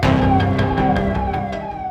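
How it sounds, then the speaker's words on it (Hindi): A loud police siren wails close by on a street, its tone sweeping up and down over a rumbling, busy background for the full two seconds. "सड़कों पर दौड़ रही पुलिस की गाड़ियां और सायरन की साएं"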